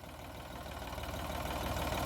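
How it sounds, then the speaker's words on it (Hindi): A tractor stuck in the ground runs its engine with a loud low, rhythmic chugging that grows slightly stronger as it continues, close by, with no talking. "कड़ा फंसा दिया ट्रैक्टर।"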